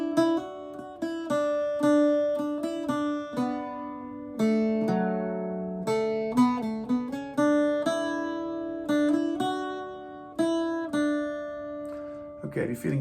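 Irish bouzouki plays the first half of the tune Sí Bheag, Sí Mhór, plucked notes ringing in a steady melodic line with droning courses, close and clear throughout.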